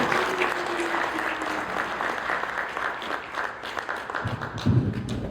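An audience at a poetry book launch for a collected works breaks into steady applause that holds for several seconds, easing slightly before a brief louder burst near the end.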